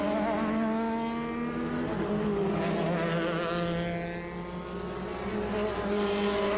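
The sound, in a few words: March 80A 79 vintage race car at Sebring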